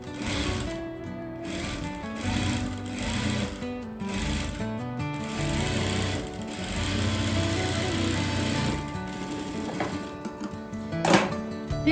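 A sewing machine stitches a plain blouse, running steadily and fairly loudly for the whole stretch with a whirring, buzzing drone that changes slightly in pace, with a louder burst near the end.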